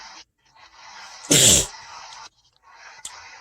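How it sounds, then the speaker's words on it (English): A single loud sneeze bursts out between stretches of quiet speech, close and sharp, lasting about half a second. "I got a sneeze coming."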